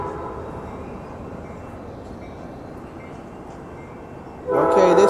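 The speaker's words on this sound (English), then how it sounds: "There go that train, folks, on its way to Sacramento" An Amtrak passenger train with a Siemens Charger SC44 locomotive rumbles past at a station in Oakland at night, a steady broad roar that swells into a loud horn blast at the end.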